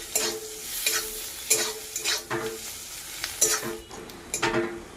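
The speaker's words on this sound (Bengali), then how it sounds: "এরপর দিয়ে দেব আমি থেতো করে রাখা আদা, দিয়ে ভালো করে একদম ভেজে নিচ্ছি।" Crushed garlic and ginger frying and being stirred in a pan, a close sizzle broken by repeated scraping strokes of the spoon in an uneven rhythm, no talking.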